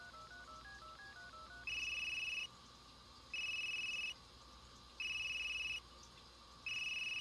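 In the video game Unheard, a phone dials a number with a quick run of stepped keypad tones, then a ringback tone sounds in evenly spaced bursts with short gaps between them.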